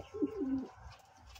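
Satin and lakkha breed pigeons in a loft give a single soft, low coo up close, followed by quiet rustling.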